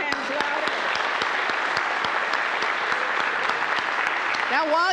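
A worship congregation claps their hands louder to imitate a storm, a dense and steady roar of many hands nearby. A voice briefly speaks over the clapping near the end.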